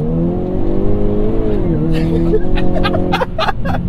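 Hyundai Kona N engine revving steadily as the car is steered through a corner on the throttle, a loud sustained drone that dips and recovers mid-way, with a person speaking and laughing over it.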